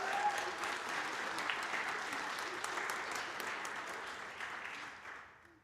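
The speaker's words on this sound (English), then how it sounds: "So I want to give a big round of applause to them for their beautiful writing" Applause from an audience at a school milestone ceremony, a soft, distant, even patter of many hands that fades out toward the end.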